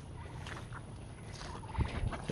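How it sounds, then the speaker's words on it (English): Ducks on a flood-irrigated farm field give faint, scattered quacking calls over a soft wash of outdoor background noise. A few louder low bursts come near the end. "The ducks are really enjoying this."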